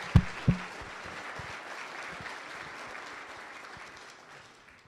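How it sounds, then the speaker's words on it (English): Audience applause at a general membership meeting thanking construction and consulting firms, opening with a couple of sharp thumps, then steady clapping that slowly fades out. "Let's give them a round of applause."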